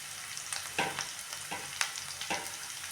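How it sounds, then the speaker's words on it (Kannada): Curry leaves crackle and pop in hot oil with golden onions, a soft constant sizzle dotted with sharp spatters and a few stirring scrapes. "ನೋಡಿ, ಚಟಾಪಟ ಅಂತ ಸೂಪರಾಗಿ ಇದು ಎಣ್ಣೆ ಫ್ರೈ"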